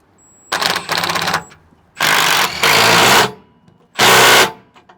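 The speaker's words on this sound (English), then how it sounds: "So we're going to take our 13mm, put it on an extension here," A 13mm socket on an extension drives a skid plate bolt on a Toyota 4Runner gas tank guard, heard as three loud, close bursts of rapid ratcheting or power-tool chatter separated by short pauses.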